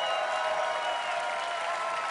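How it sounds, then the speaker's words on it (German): An audience applauds at a German-language Sunday music show featuring a group, a brief steady wash of clapping heard alone. "Das ist schon mal euer Applaus."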